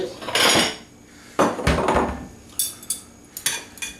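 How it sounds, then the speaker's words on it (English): Ceramic bowls and dishes clatter in a home kitchen as a bowl is taken out, several sharp knocks and clinks close by, one longer rattle early then brief separate taps, with no talking. "Let me just get a bowl."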